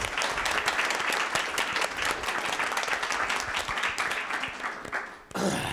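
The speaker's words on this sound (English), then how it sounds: "big round of applause, please, for our Sandra Higgins from Go Vegan World" Audience applause at a vegan panel discussion, VegfestUK Brighton 2018: dense, sustained clapping fills the room at steady loudness, then cuts off briefly near the end before resuming.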